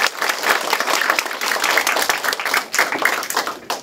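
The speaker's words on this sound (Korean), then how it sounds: "박수 한번 보내주세요." An audience at a Korean book launch for a social studies textbook claps, a sustained, even round of applause from a roomful of people.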